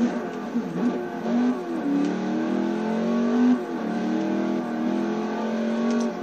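Race car engine in Forza Motorsport 4 revving steadily at racing speed, a loud continuous mid-pitched drone with rising and falling pitch sweeps as gears shift, with no talking.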